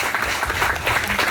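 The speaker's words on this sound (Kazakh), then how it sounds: "Қол шапалақтап қойып" A crowd applauds at a company's opening ceremony, dense steady hand clapping filling the whole short moment, close and fairly loud.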